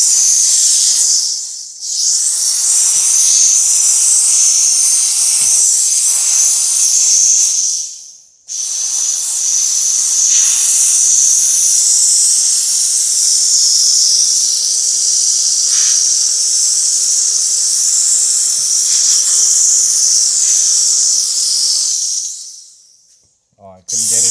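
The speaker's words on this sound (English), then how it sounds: "But I like the steam cleaner, it helps out a lot." A steam cleaner works on vehicle paint while removing a sticker, giving a loud, close, continuous hiss that runs in three long stretches separated by brief pauses.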